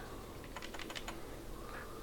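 Typing on an external computer keyboard, a quick cluster of soft key clicks in the middle followed by a faint tap, close and quiet over a low background hum.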